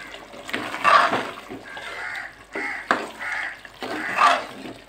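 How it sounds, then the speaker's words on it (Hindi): About two cups of water are poured into a cooking pot of liver and tinda curry in a few splashing, gurgling bursts, close and fairly quiet. "मैं पानी शामिल कर रही हूँ, 2 कप पानी शामिल करूँगी इसमें"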